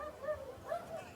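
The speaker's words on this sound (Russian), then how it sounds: "О, собака, он сидит бедная." A frightened dog sitting among New Year's Eve crowds by the sea in Yalta gives a few thin, high whimpers and short whining cries, fairly faint and brief, with crowd hum behind.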